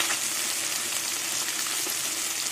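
Small river fish from the Ganges frying in hot oil in a kadai, a dense, steady bright sizzle and crackle that stays loud and close the whole time, with no voices.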